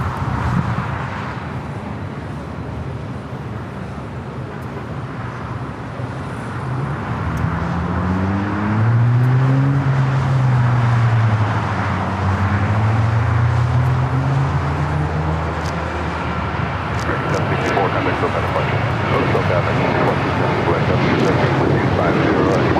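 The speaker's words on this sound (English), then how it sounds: "American Airlines 764 taking off to Puerto Vallarta" An American Airlines Boeing 737-800 in TWA retro livery takes off at LAX, a loud continuous jet roar that swells and shifts in pitch as it climbs away, with wind buffeting and voices talking over it.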